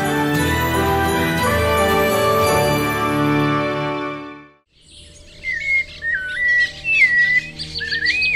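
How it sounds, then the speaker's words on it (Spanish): Birds sing close by after a sustained musical passage fades out, with bright chirps and whistled trills coming in quick, irregular bursts over a quiet background. "Hay aves que tienen sonidos muy bonitos"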